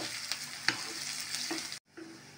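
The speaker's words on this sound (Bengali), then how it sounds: "আগে আমি পেঁয়াজ কুচিগুলো ভালোভাবে লাল করে ভেজে নিব।" Chopped onions frying in oil for a tripe curry, a soft continuous sizzle with a few stirring taps, briefly cut off near the end before the frying resumes.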